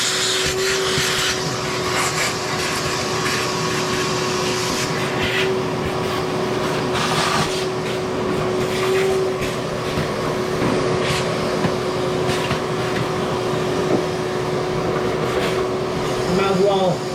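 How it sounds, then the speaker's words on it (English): A vacuum cleaner drones steadily while cleaning a washable, reusable K&N air filter from a 2012 Prius C with about 190,000 miles, a continuous whine with a faint hum and occasional shifts in tone as the nozzle moves. "I might as well vacuum the air filter too"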